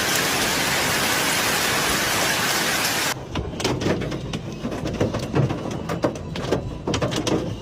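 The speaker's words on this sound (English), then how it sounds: "the town of Hailstorm in Malaga Province experienced an intense hailstorm on March 25, 2025, resulting in streets turning into rivers of icy water." An intense hailstorm pelts the streets of a town in Malaga Province, Spain: a dense, steady roar of ice hitting surfaces for about three seconds, then a sparser patter of separate sharp impacts.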